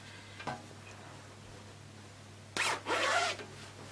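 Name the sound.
zipper on an Ankara fabric dress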